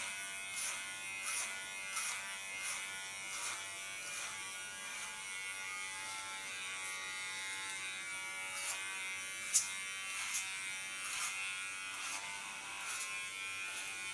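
Electric hair clippers cut hair very short during a clipper haircut with a platinum blonde colour, a constant close buzzing hum with faint rhythmic pulses that runs steadily for the whole stretch.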